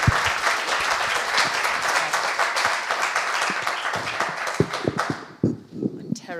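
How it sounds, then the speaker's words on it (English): A conference audience at a science policy session gives a warm round of applause, a dense crowd clapping that thins out toward the end into scattered individual claps. "You can give Christiane Woopen a very warm round of applause,"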